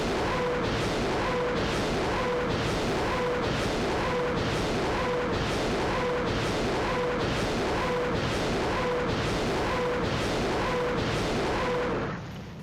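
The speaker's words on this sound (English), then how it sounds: "as soon as we hear the explosions, then we send the infantry" Artillery barrage in an Arma military game operation on Raate Road: a steady run of rhythmic booming impacts, about one every second, rolling on continuously at moderate distance with no voices.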